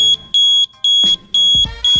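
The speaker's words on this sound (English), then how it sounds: "this is the sound of the carbon monoxide alarm sound." A carbon monoxide alarm beeps repeatedly in sharp, shrill, close pulses, one note held longer, with a couple of dull knocks underneath.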